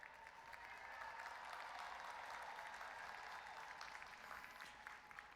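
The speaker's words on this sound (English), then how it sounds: "Can you please join me in a round of thunderous applause for our faculty and staff" A graduation crowd at Cedar Grove's 2021 ceremony gives a sustained, even round of applause for the faculty and staff, heard from a distance as a broad wash of clapping.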